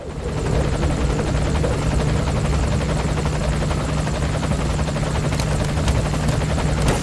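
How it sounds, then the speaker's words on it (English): A helicopter thunders continuously up close in Metal Gear Solid V: The Phantom Pain, its rotor chop and engine whine steady and loud throughout, with no voices. "take a look outside of the helicopter"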